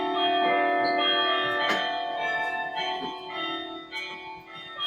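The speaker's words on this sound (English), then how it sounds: "they are tuned so that you can actually play a simple tune on the bell." Tuned bells in a mission bell tower ring out with long, layered tones, several struck notes sounding one after another while earlier tones hang and slowly fade.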